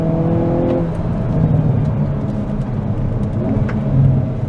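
A 2022 Hyundai Kona N with its 2.0-liter turbo engine accelerates from a rolling start. The engine tone climbs steadily, then shifts to a lower pitch and climbs again, with a throaty gargle heard from inside the car.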